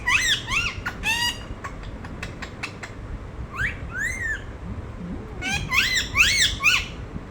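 A pet talking parrot gives loud, sharp squawks and whistled calls in bursts, with short clicks and chirps between them, close to the microphone.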